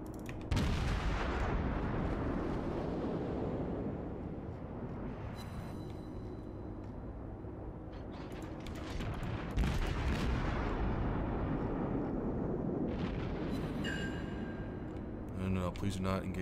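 Naval gun salvos from the Russian cruiser Mikhail Kutuzov in World of Warships, loud booming blasts at about 0.5, 9.5 and 15 seconds over continuous battle rumble, with someone talking over it.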